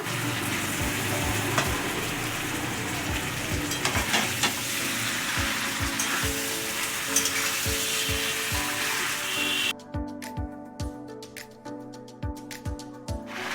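Fried fish heads and turmeric powder sauté in a pan for a papaya curry, sizzling loudly with repeated scraping stirs in an irregular rhythm; the sizzle drops away near the end while the stirring knocks continue, no speech.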